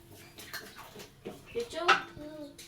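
Water pours in short gurgling bursts into bottles, close by, with a voice talking over it.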